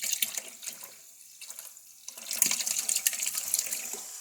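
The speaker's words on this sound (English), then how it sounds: "So, bubbly water goes in and circulates around through the modules, and then eventually all comes out." Bubbly water circulating through Tesla battery modules in a battery box being built for a Jeep conversion, heard as irregular gurgling, trickling and splashing that starts up, eases off briefly, then returns more busily.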